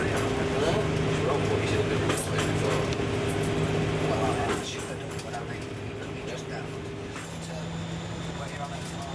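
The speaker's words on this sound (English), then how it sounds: "filming from the front cab of a locomotive hauling a loaded coal train from Immingham to Scunthorpe" A locomotive hauling a loaded coal train from Immingham to Scunthorpe drones steadily from inside the front cab, with low engine hum and rail noise that eases slightly midway, while someone talks over it.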